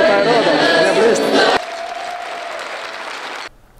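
Audience at a folk music concert applauds in a dense, loud burst of clapping with a few cheers, which drops abruptly to quieter clapping and then cuts off.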